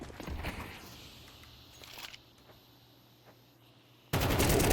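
Gunfire sounds in Counter-Strike 2, with a cluster of sharp shots at the start and a few faint later cracks, before a sudden loud noisy burst at the end.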